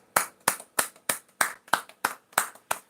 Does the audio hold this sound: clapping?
yes